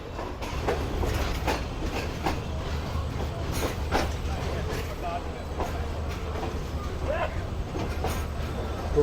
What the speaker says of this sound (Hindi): एक ट्रेन ने हमें ओवरटेक किया है